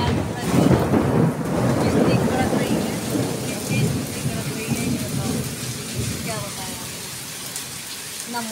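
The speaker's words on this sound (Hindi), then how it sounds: "धुआंधार बारिश हो रही है, बादल गरज रहे हैं, पानी बरस रहा है" A thunderstorm with heavy, torrential rain makes a loud, dense roar, and deep rumbling thunder swells early before easing into a steady downpour.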